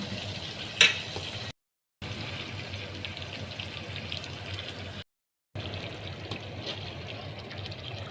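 Oil in a pan frying green chillies and curry leaves for an eggplant curry: a steady, close sizzle and crackle, broken by two brief silent gaps.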